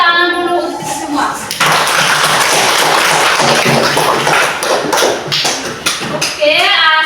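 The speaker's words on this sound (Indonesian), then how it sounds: "Tepuk tangan dulu untuk kita semua" Schoolchildren in a primary classroom clap their hands together: a loud, dense burst of close clapping lasting about five seconds, with voices talking just before and right after.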